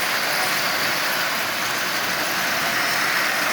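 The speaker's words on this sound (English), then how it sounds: "this old engine is up and running, and it's running really, really well" A Marx 666 toy steam locomotive with its original eight-wheel tender runs steadily, smoking and pulling 22 Marx cars, giving a continuous close whirring and rumbling motor drone with no pauses.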